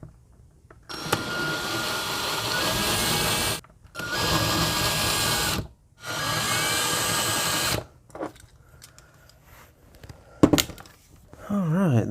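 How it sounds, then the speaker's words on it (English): Three bursts of a power drill boring out the posts of a Hot Wheels die-cast car, each whining for about two to three seconds with short pauses between, followed by quieter handling clicks and scrapes. "So first things first, we got to drill out these posts."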